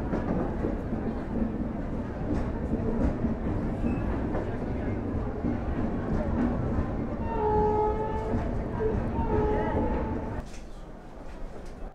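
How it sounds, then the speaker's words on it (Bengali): The 12023 Howrah–Patna Jan Shatabdi Express pulls out of Jasidih station, a continuous heavy rumble of rolling wagons close by, with a brief tonal horn-like sound near the end and voices talking over it. "হাওড়া পাটনা জনশতাব্দী এক্সপ্রেস জোসিডি ছেড়ে রওনা দিল তার গন্তব্যের উদ্দেশ্যে।"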